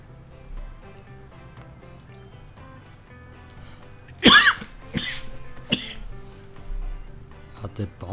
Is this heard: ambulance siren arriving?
no